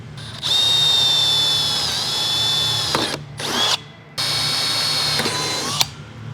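A power drill whines steadily at close range, drilling into a Subaru BRZ body for a body kit install, pausing briefly twice and restarting, its motor pitch dipping slightly under load.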